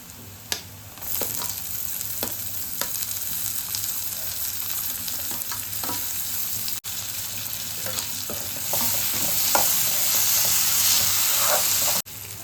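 Onion and tomato fry in a pan, giving a loud, continuous sizzle broken by frequent scraping ticks of stirring and a few brief dropouts in the sound.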